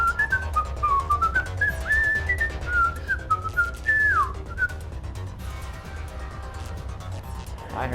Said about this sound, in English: I heard whistling.